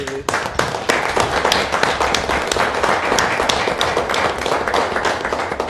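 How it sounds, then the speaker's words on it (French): Applause at a Rouyn-Noranda city council meeting: a room of people clapping steadily and fairly loudly, dense overlapping claps continuing throughout without speech on top. "Alors, oui, oui, on peut applaudir."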